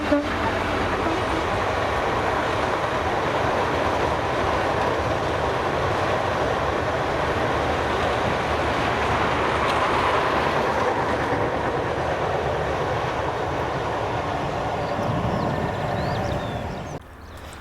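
Freight train led by class 66 locomotive 66546 hauling 42 PCA scrap wagons from Oxwellmains toward Millerhill in Scotland, a steady, loud rumble of rolling wagons passing close by for the whole stretch, fading slightly at the end.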